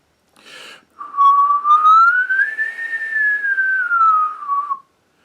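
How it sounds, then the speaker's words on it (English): A close, steady whistle holds one long note that climbs gradually and then eases back down, lasting around four seconds after a brief breathy onset. The whistling is part of a trumpet warm-up exercise, and nobody speaks. "Try whistling again and see if you can think about what your tongue is doing"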